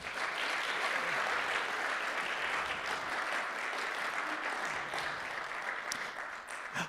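Steady applause from an audience at a book club music night, a dense wash of clapping that holds for the whole stretch and thins slightly near the end.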